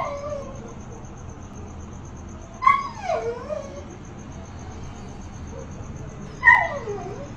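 A dog whimpers in two separate high, wavering whines a few seconds apart, close by against a quiet background hum.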